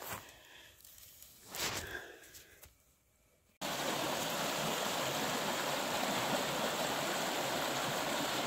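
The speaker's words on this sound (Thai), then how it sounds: "ใกล้น้ำแล้วจ้ะพี่น้อง ใกล้แม่น้ำแล้ว" After a few seconds of quiet with faint rustles, a loud, broad rush of flowing river water in a forest takes over abruptly and continues steadily without a break.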